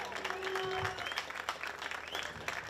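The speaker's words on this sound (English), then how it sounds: "make some noise, give him a round of applause" A crowd along the pit line at a drift event bursts into steady applause with some cheering. It is fairly loud and continuous, with a voice faintly audible underneath.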